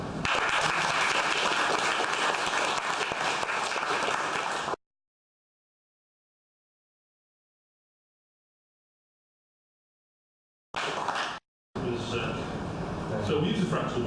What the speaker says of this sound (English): please give a very warm applause and welcome to Paremus, Dr. Richard Nicholson and David Savage